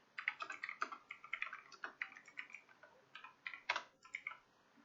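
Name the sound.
typing on a computer keyboard while writing C# code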